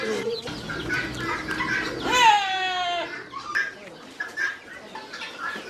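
Hens and chicks in a farmyard coop, a mother hen among many young chicks, giving scattered clucks with a louder squawking burst midway, chirping and rustling throughout.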